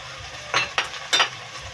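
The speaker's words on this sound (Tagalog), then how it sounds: "Haluin lang muna natin." Ketchup is stirred into spicy creamy buttered octopus in a pan: three quick scraping strokes over a soft, low sizzle.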